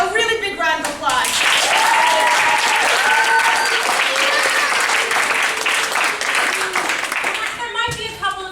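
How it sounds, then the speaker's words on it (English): A theater audience at a Wizard of Oz show gives a big round of applause with shouts and cheers, rising after a brief voice and continuing steadily before a speaker resumes near the end. "let's try a really big round of applause"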